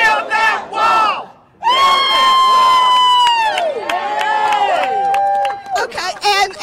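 A huge crowd at a MAGA hat rally outside CNN cheers and shouts loudly and continuously, with voices rising into sustained yells after a short lull.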